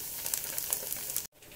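Steady crackling sizzle of Russian blini batter, made with boiling water, frying in a hot pan, close and continuous, cutting off abruptly near the end.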